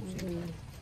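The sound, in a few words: bird calling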